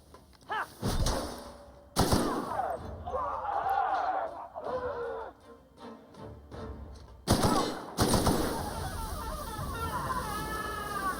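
Sharp gunshots ring out in The Outer Worlds, a few distinct loud cracks spaced several seconds apart amid game ambience, with people talking in between.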